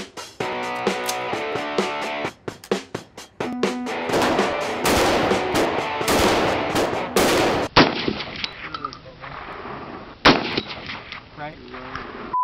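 Rifle shots from a non-AR-15 firearm ring out in a loud, rapid burst of repeated cracks, then further sharp reports follow with gaps between them, close and dominant.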